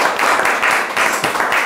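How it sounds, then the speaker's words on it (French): An audience at a year-end television show applauds for Cécile. Dense clapping comes in close, loud waves that swell and dip over a couple of seconds. "un grand applaudissement pour Cécile."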